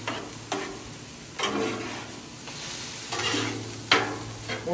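Beef pasta sizzles steadily on a hot Blackstone griddle while a spatula stirs and scrapes it in several loud, separate bursts.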